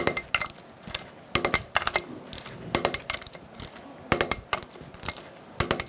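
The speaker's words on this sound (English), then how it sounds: "torque the lug nuts to 140 foot-pounds. I'm going to do it in a cross pattern to tighten the wheel down evenly." Lug nuts on a front wheel of a 2007 Chevy Silverado 1500 Classic being tightened with a torque wrench in a cross pattern, giving sharp metallic clicks and ratcheting bursts in irregular clusters, close and fairly loud, with no talking.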